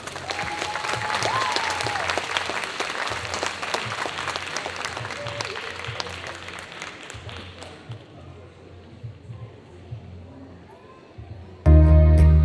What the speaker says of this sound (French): Applaudissez bien fort.